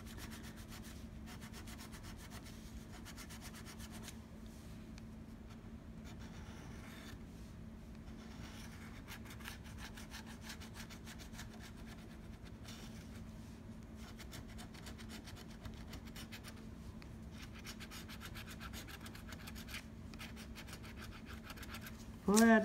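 Lottery scratch-off tickets are scraped at close range in a long run of steady, rhythmic rasping strokes with brief pauses. A louder knock lands at the end.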